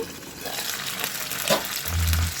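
Ingredients for cucumber chutney frying in a pan, a soft steady sizzle with a few scraping stir sounds and a deeper rumble near the end.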